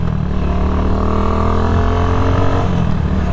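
Vader 150 motorcycle engine revving hard and continuously, close and loud, with no talking.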